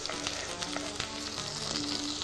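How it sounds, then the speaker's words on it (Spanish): Leek sautés with garlic in a hot pan, giving a dense, continuous sizzle at close range with faint stirring sounds and no voices. "Mientras que se rehoga un poco el puerro"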